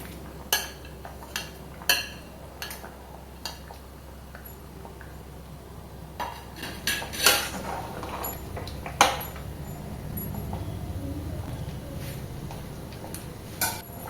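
Masoor dal with pumpkin being stirred in a pot, with scattered clinks and taps of a spoon against the metal over a low steady simmer, no talk.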